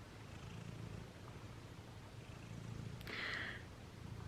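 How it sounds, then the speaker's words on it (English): A soft, low cat purr rumbles steadily up close, faint and continuous, with a brief rustle near the end. "I don't know if you can hear her, but she is purring."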